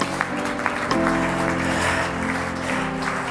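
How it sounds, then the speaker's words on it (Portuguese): Congregation applauding during a church service, steady clapping over sustained organ or keyboard chords and a low hum, with no pause across the stretch. "Quantos podem aplaudir a Jesus?"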